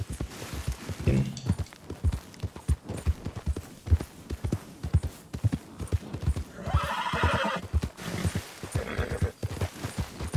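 Horse in the Red Dead Redemption 2 video game, with rapid, steady hoofbeats clopping throughout and a loud whinny partway through, close and prominent over faint background game sounds.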